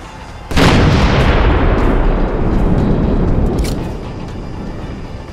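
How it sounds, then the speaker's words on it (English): A sudden, loud explosion as a bridge is blown up in the video game Dead Island: Riptide, followed by a heavy rumbling roar that slowly fades, with a few crackling pops near the end. "explosion, you blew the damn bridge?"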